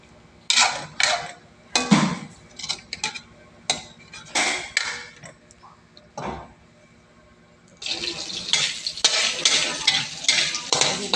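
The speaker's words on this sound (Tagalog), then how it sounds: "Igisa natin yung sili para maganda siyang tingnan." Chili peppers sautéing in a pan for Bicol Express, with a spatula scraping and stirring in close, irregular bursts separated by short pauses, a light sizzle beneath and a denser run of stirring toward the end.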